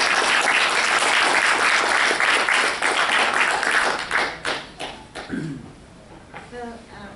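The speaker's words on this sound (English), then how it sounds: "Please give her a round of applause." Applause from a lecture audience welcoming a peace activist speaker, a dense steady clapping that fades out into scattered claps and a few voices near the end.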